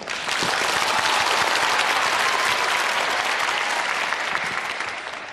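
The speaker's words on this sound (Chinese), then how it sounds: "来掌声" A studio audience at a televised job-interview show applauds loudly and steadily, dense even clapping that holds throughout and eases slightly toward the end.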